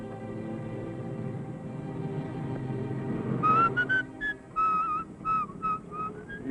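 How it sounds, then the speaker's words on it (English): A man whistles a wavering tune in short phrases, starting partway through over a low rumbling background, close and clear. "You're whistling."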